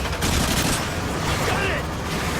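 Sustained gunfire from a Call of Duty Modern Warfare battle, dense overlapping rifle and machine-gun bursts loud and continuous throughout, with shouted voices mixed into the chaos.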